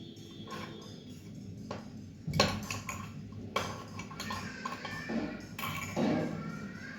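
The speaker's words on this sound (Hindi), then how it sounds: "पहले थोड़ा सा दूध डाल के ऐसे अच्छी से चम्मच से चला लो" A spoon stirs milk in a cup for tea, giving a series of light metallic clinks and taps against the cup, spaced irregularly across the stretch and fairly close with room noise behind.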